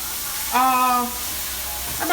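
Spanish rice cooks in a pot in a Trinidad and Tobago kitchen, giving off a steady, close sizzling hiss throughout, briefly overlaid by a short voiced tone near the start and another at the very end.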